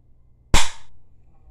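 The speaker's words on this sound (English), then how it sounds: "So every time you shoot, this little black piece back here is gonna pop back to shoot the bullet." A single sharp snap from a BB gun being dry-fired, up close and loud, with a brief quieter rattle right after.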